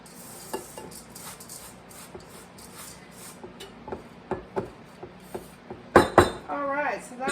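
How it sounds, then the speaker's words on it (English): Cinnamon is stirred into a pear mixture in a bowl, a metal utensil scraping and clinking against the dish in uneven strokes that grow louder and busier toward the end. "I'm just going to put maybe a teaspoon or so of cinnamon. I'm going to mix that in."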